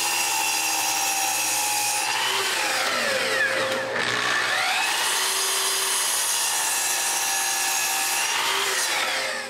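Power tool cutting rods to length for staircase gate hinges, a continuous whining drone whose pitch dips and swoops during the cut, then recovers, moderately close and without speech.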